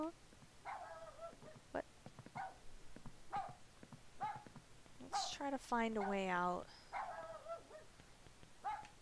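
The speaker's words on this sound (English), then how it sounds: "My dog started whining at sharks barking." A dog in the horror video game Rule of Rose gives a burst of whining yelps and whimpers alongside short barks, heard under and between someone talking over the game.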